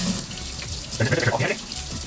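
A knife sharpener part rinsed under a running kitchen tap, a steady close splash of water with brief shifts as the piece moves through the stream.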